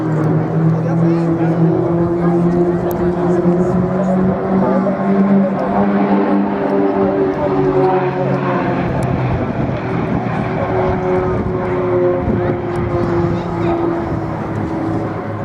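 Royal Jordanian Falcons aerobatic display aircraft flying in formation at the IWM Duxford airshow, a steady loud propeller drone with shifting tones as the solo closes on the main group, continuous throughout with faint speech under it.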